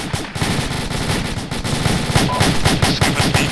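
Rapid bursts of AK rifle fire in the military simulation game Arma, loud sustained volleys with closely spaced cracks rattling on without pause.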